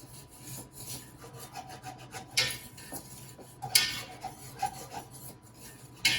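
Spoon stirring a sandy, crumbly mac and cheese mixture in a pot, quiet repeated scraping and rasping strokes with a few sharper clinks against the pan.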